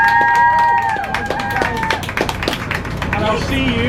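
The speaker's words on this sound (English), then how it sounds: "Absolutely round of applause to yourselves." Newly graduated open-water scuba divers clap for themselves, scattered individual claps under a bright tonal jingle and background chatter, fairly close and uneven in rhythm.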